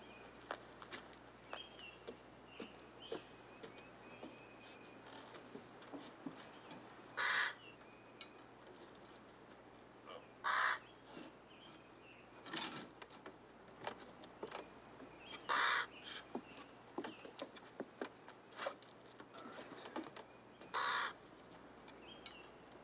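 A raven caws several times at spaced intervals, each call a short harsh burst standing out over a faint, steady background hum.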